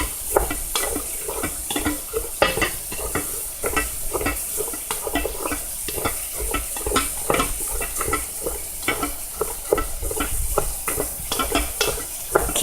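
Rice is stirred and fried in a hot pan, giving a loud, busy sizzle with rapid, irregular scraping and tapping of the utensil against the pan throughout.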